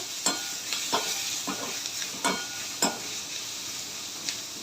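A spoon scrapes and stirs through a sizzling pan of vegetables with turmeric and salt, several distinct scraping strokes rising above a steady close frying hiss.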